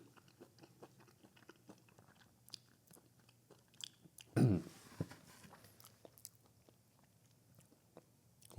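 Someone bites and chews loaded fries close to the mic, with soft, irregular crunchy mouth sounds and one louder, fuller bite near the middle, against a quiet background with no talking.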